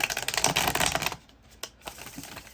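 Cards riffle quickly in a brisk, rattling burst for about a second, followed by a few soft taps and shuffles close up.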